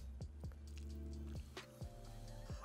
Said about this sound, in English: So just keep on stirring that up and mash them in as well.